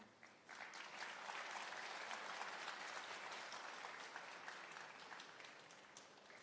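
An audience at a Techfest keynote breaks into applause, a dense, sustained clapping that swells quickly and holds steady for several seconds before tapering slightly, with no speech over it.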